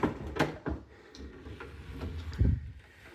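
Doors of a 1/6 scale toy SWAT vehicle being opened by hand, a few small plastic clicks and soft knocks spaced out over a few seconds, close and fairly quiet.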